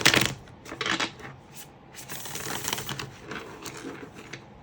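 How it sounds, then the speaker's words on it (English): A deck of tarot cards being shuffled by hand, giving a close series of quick papery riffles and soft slaps in irregular bursts, with no talking. "Personally, I love to shuffle like that,"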